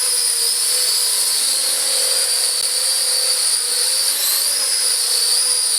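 A Silverlit Bumper Drone toy drone spins and flies forward in headless mode, its rotors giving a loud, steady high-pitched whine that holds for several seconds with a slight pitch shift near the end.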